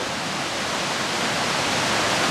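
Steady, full-band roar of a waterfall pouring over black rocks into turquoise water in Banff National Park, close and constant with no other sounds.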